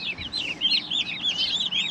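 Steady chatter of chickens, many overlapping clucks and chirps continuing throughout at moderate volume.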